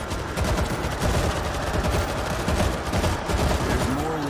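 Rapid bursts of automatic gunfire from the zombie shooter game World War Z, in a solo New York mission, crackling loud and continuous with dense overlapping shots throughout.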